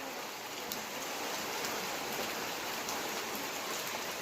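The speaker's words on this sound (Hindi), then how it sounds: "और बारिश मुझे लगता है कि अभी बंद होने वाली है" Steady, dense rainfall hisses continuously in a mountain village, with scattered drops pattering on a nearby veranda throughout.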